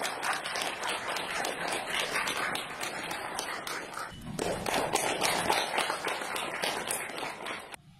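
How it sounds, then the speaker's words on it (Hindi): Loud, continuous clapping from a standing audience at a company presentation in Dholera, Gujarat, mixed with shuffling and footsteps, holding steady for several seconds before cutting off. "आप सभी लोगों को मैं रिक्वेस्ट करूंगा करके खड़े होकर सर के लिए जोरदार ताली होगा चाहिए"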